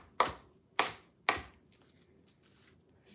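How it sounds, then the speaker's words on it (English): A knife chops vegetables on a cutting board for salad, three sharp, evenly spaced strikes followed by lighter scraping and taps, then another chop at the end, close and with no talk. "Like chopping as much to fill this bowl is about 3 or 4 days worth of salad."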